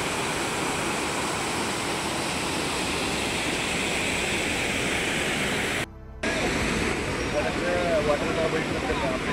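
A monsoon waterfall below Harishchandragad fort roars as a steady, dense wash of falling water, loud and continuous, with a brief dropout partway through and a voice faintly mixed in.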